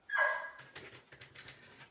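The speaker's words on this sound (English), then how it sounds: "Every time I go to pick up my phone, he has to bark at me." A small indoor dog gives one sharp, close bark, followed by a few quieter whimpering yips and huffs while someone works at a craft table.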